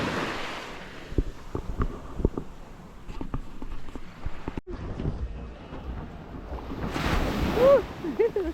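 Ocean surf washing onto the beach at Bucerias, a steady broadband wash with wind noise across the microphone, swelling louder near the end as a wave rolls in, with brief scattered voices and bumps.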